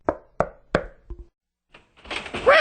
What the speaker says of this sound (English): He knocked on her door.